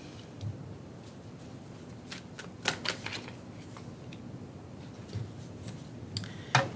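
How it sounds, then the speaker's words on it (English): Tarot cards being shuffled close up and quietly, with soft riffles and sharp snapping bursts scattered through the clip, no talking. "I promise I shuffled"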